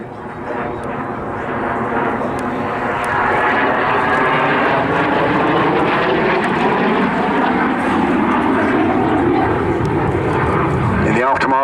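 A vintage Saab J-29 Tunnan jet roars at an airshow, its loud engine swelling and holding steady with shifting tonal whines as it passes, while a commentator talks throughout.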